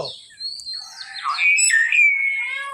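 A myna bird at a safari park gives a string of clear whistles and chirps, close and fairly loud, rising and sliding in pitch over a quiet background.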